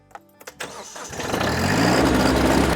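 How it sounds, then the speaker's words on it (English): A Kubota tractor's diesel engine cranks a few times, catches, and settles into a steady loud rumbling idle up close. "the great part about having a tractor like this, the Kubota"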